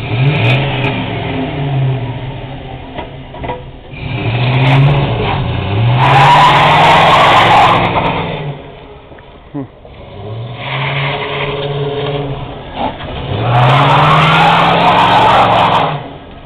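A U-Haul truck does a tire burnout in loud, repeated cycles. The engine revs hard and the tires screech and squeal, easing off between attempts, with voices audible in the background.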